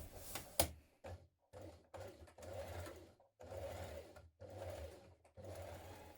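A domestic sewing machine runs in several short bursts of stitching, sewing vertical lines along the front, side and back seams of culottes to hold them flat; close, steady whirring separated by brief pauses, with no talk.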